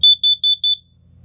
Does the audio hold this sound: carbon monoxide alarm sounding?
yes